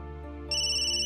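A mobile phone ringtone cuts in halfway through and rings steadily and loudly over a low background hum.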